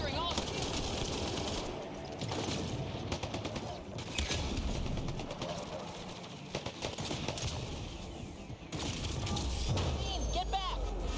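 Rapid automatic turret gunfire from the video game Mass Effect: Andromeda rattles steadily for about eleven seconds amid dense battle noise, with voices mixed in.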